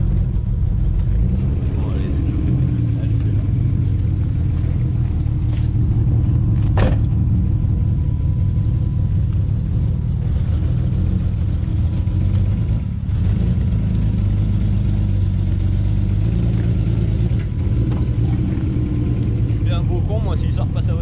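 BMW E36 bi-turbo (325i/328i) engine running and revving, a loud low rumble that stays steady with occasional rises, while people talk over it nearby.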